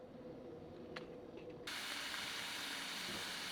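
Large beef burger patties hit a hot pan at a desert campsite and burst into a loud, steady sizzle that continues close by after a few quiet clicks.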